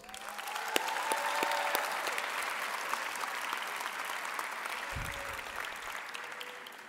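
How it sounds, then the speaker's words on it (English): A crowd at a university graduation ceremony applauds steadily, sustained clapping filling the space at an even level with occasional louder claps standing out. "request the graduates to applaud their families, friends, and partners for their support over the years"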